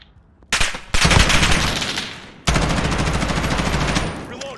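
Loud bursts of automatic gunfire from a gun in a Modern Warfare beta 2v2 multiplayer shooter match, two long rapid-fire strings, close and dominant.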